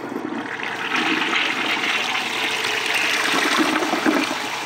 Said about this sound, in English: Now let's give her a flush and see how it does.